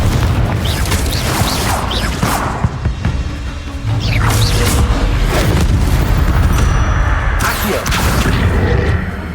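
Booming blasts and whooshes from the Confringo blasting spell in Hogwarts Legacy, loud and continuous in a busy combat mix with crashes and impacts layered on top.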